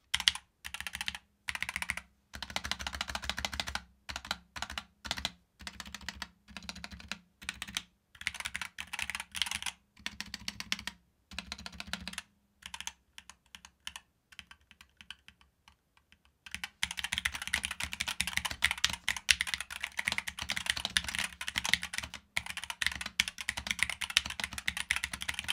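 Fingers type on a Logitech Pro X 60 keyboard, a 60 percent board with light 50-gram switches. Close, crisp keystrokes come in bursts with brief pauses, then a long continuous fast run, with no speech.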